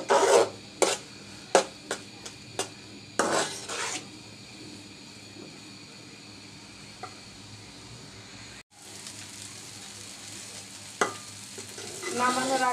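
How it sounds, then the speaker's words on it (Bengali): Semai polao, a vermicelli pilaf, is stirred in a pan with sharp scraping and clattering strokes at first, then a quieter sizzle with occasional taps. "নামানোর আগে আমি আরেকটু 1 মিনিট আরেকটু নেড়ে ছেড়ে আরেকটু ঝরঝরে করে নিচ্ছি।"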